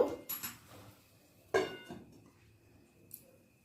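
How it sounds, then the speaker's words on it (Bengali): A metal lid is set onto a cooking pot of simmering jaggery syrup on a gas stove, giving two sharp clanking clinks about a second and a half apart, close and fairly loud, followed by a faint light tap. "এই সময় আমি ঢাকা দিয়ে দেব"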